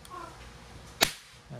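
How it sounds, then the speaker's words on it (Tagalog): A Crosman 1322 variable pump airgun fires a single sharp, loud shot, a brief crack standing alone in a quiet room. "isang putok pa rin yan"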